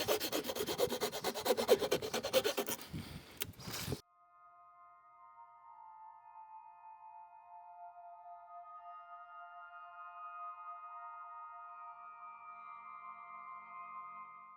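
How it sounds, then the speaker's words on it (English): A Japanese rasp files a wooden corner in quick, rough scraping strokes for a few seconds, close and loud, then stops and gives way to a quiet sustained tonal hum. "So I go back to one of my favourite things, Japanese rasp. Just going to take that corner off just a little bit."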